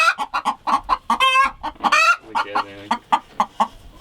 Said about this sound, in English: Inside the chicken coop were nesting boxes where the chickens laid their eggs.